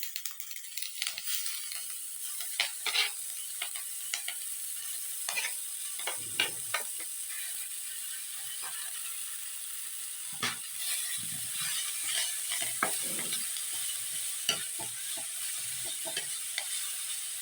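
Continuous sizzling in a hot pan with repeated scraping and clattering strokes as greens are stirred and tossed, close and steady.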